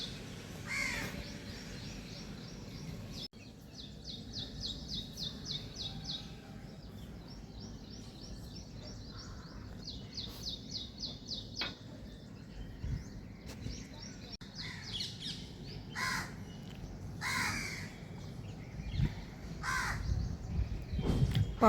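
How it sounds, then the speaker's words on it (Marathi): Crows caw repeatedly in short bursts from a moderate distance, over a steady wet ambience on a rainy monsoon morning in Pune, with other birds chirping faintly. "पक्षी उडतात ते असं कावळ्यांचा आवाज वगैरे सगळं बघा"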